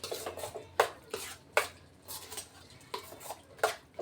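Bottle gourd pieces stirred into a chutney with a spoon, soft mushy shuffling broken by several sharp clinks of the spoon against the bowl at uneven intervals, close and fairly quiet.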